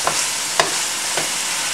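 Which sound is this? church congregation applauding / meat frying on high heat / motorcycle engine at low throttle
meat frying on high heat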